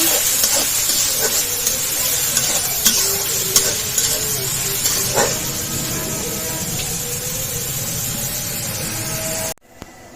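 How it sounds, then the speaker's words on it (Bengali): Chopped onion fries loudly in hot oil with whole garam masala and bay leaf, a dense continuous sizzle broken by repeated scrapes and knocks of a spatula stirring, cut off abruptly near the end. "পেঁয়াজ কুচি, পেঁয়াজটা ভালো করে ভেজে নেব।"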